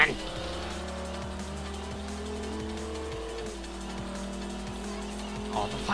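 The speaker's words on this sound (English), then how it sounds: "the Viper just sounds so much better here" A Dodge Viper engine in the racing game Forza Horizon 1 drones steadily and climbs through revs, with occasional tire noise and someone talking over it.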